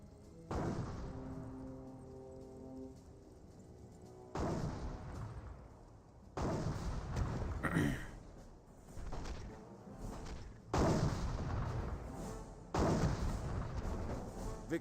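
Big and little guns fire in a Company of Heroes battle: repeated loud booms of heavy artillery and cannon, with sharper small-arms pops and bursts, arriving in several separate waves with rumbling tails.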